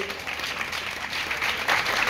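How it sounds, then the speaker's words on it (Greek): An audience applauds warmly after a dance performance, continuous dense clapping that swells slightly near the end. "Ένα μεγάλο χειροκρότημα"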